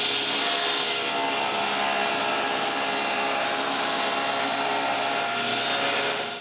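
A power saw cuts steadily through a plywood panel for a bookcase, a loud continuous buzzing rasp that runs unbroken for several seconds before stopping at the end.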